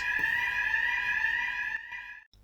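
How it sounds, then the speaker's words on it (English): A loud, steady electronic alarm tone sounds continuously, then cuts off abruptly near the end. "The emergency alarms are tested weekly, however, they will only sound for a short duration."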